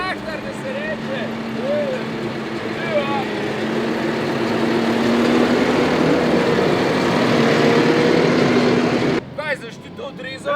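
A tractor engine drones steadily and loud at close range, a continuous rumble with a faint whine, under intermittent talk, cutting off abruptly near the end.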